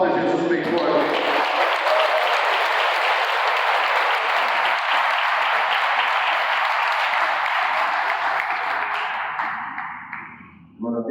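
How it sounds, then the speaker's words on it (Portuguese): A church congregation applauds loudly and continuously, a thick, sustained roar of many hands clapping that holds steady for about ten seconds before tapering off. "aplauda Jesus bem forte"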